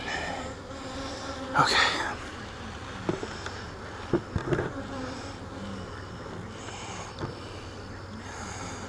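Honeybees hum around an open, strong hive with a brood box full of honey, their steady buzz close and continuous, broken by a few handling knocks and a brief spoken word from the beekeeper.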